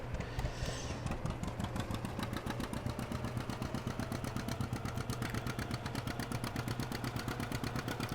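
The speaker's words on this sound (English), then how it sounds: "someone is just absolutely giving it outside in their vehicle" A vehicle engine runs steadily outdoors with a fast, regular throbbing pulse, moderately loud and continuous throughout, with no voices, heard during Farming Simulator 17 gameplay.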